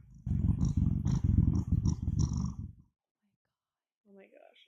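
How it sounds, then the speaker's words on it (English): Gizmo the cat purring up close, a rumbling rhythmic purr with breathy pulses for a couple of seconds, then quiet, followed by a brief soft voice. "Oh, the purr."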